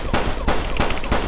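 Gunfire in the police video game Flashing Lights: several sharp shots in quick succession, loud and close, spaced unevenly over about a second.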